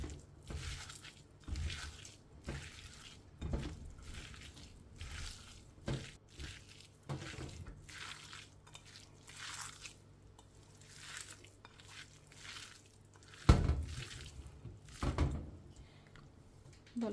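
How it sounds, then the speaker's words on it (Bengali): Fish is mixed by hand with onion, chili and salt, giving soft, wet squishing and squelching bursts in an irregular rhythm, close and fairly quiet, with occasional louder slaps against the bowl. "এখন আমি সবগুলো উপকরণ ভালো করে এখানে একটু মেখে নেব"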